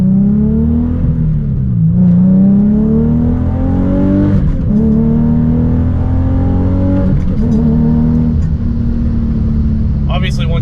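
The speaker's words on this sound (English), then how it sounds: "which is to be expected with an exhaust that's like this, where it's mostly straight through" A car engine pulls hard through a mostly straight-through exhaust with no Motordyne muffler, its loud raspy drone climbing in repeated rising surges between gear shifts, recorded close from inside.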